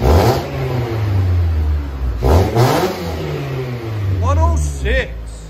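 Exhaust of a 2009 Mitsubishi Lancer fitted with a Flowmaster DBX muffler and Vibrant resonator, revving in deep, throaty bursts that rise and fall several times, with people talking over it.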